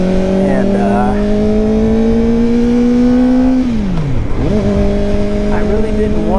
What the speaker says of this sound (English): this inline 4 really screams like a high performance sports bike